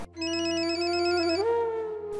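A telephone rings in a dramatic TV drama scene, a steady electronic ringtone tone that shifts pitch partway through, sounding alone with no talk.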